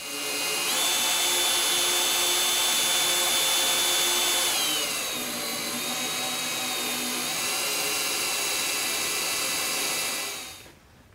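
A drill runs steadily into the hood of a welder grounding clamp, a loud continuous high whine that dips in pitch under load midway, then winds down and stops near the end.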